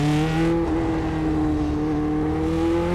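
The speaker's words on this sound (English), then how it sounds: "But the engine's so loud, I'm having a hard time hearing you." A steady, loud video game race car engine drone with a constant pitch fills the whole clip, the motor holding revs without letting up.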